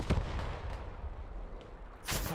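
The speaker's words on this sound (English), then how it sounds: "Artillery coming down from KGK. Well-placed artillery." Artillery barrage in the Post Scriptum war game: a heavy close blast, scattered booming impacts and a sharp crack at the end over a low rumbling background.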